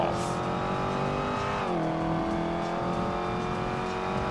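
Street racing car engine in GTA 5 on a Florida highway patrol run, a steady loud revving drone that climbs in pitch, dips and then holds, with talk over it.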